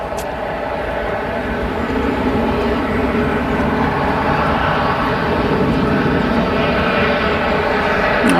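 Ryanair jet taxiing at Manchester Airport, a loud, steady engine roar and whine that swells slightly over time, heard from nearby outdoors with no talk.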